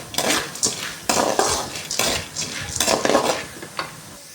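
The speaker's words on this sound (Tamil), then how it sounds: "சிம்மில் வச்சு நல்லா வறுத்து எடுத்துக்கணும்" Lentils dry-roasting in a pan over a low flame for homemade idli podi, stirred with a metal spoon that gives repeated scraping and clinking strokes against the pan, near and fairly loud, with no talk.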